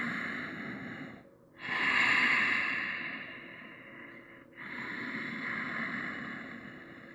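Slow, steady breathing from a person holding a deep yoga squat (Malasana), two long airy breaths with a brief pause between them, close and moderately loud with no talk.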